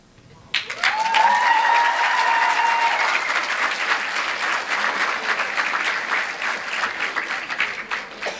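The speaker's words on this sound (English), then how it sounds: "And yes, audience, you can applaud." Debate audience breaking into applause after an opening statement: clapping starts abruptly and swells into full, dense applause that holds steady, with a brief tonal whistle or cheer early on.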